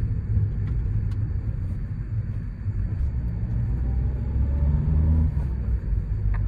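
A new Ford Courier driving along with a steady low engine rumble and road noise, fairly loud and continuous, with a slight shift in engine tone as it changes gear.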